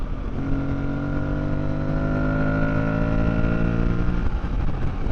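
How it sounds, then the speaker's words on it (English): Aprilia Tuareg 660 motorcycle engine on a rutted dirt trail, a steady close induction drone with rising pitch as it pulls, loud and continuous with no talk. "I love the sound of that induction."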